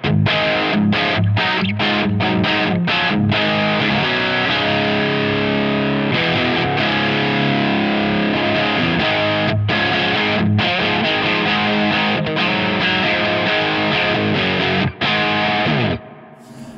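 Electric guitar with split single-coil pickups played through the VS Audio Operation Trinity high-gain distortion pedal, loud saturated chugging riffs with sharp palm-muted stops, ringing on before cutting out at the end.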